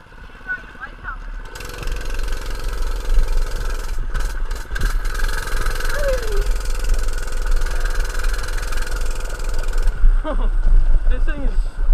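A Coleman CT100 105cc mini bike engine catches on the first pull and settles into a loud, steady idle that runs for several seconds before cutting off, with someone talking before and after.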